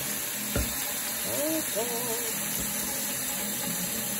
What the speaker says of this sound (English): it's hard to hear me when I'm running water